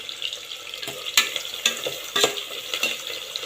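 Onions and a green chilli fry in hot oil in a pan for mutton biryani, giving a continuous close sizzle broken by regular scraping stirs about every half second, with no voices.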